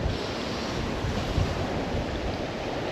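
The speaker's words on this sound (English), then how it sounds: "the wind is playing havoc." Wind blowing by a river while fly fishing for trout and salmon, a steady rushing buffet of gusts across the microphone, loud and close with no talk.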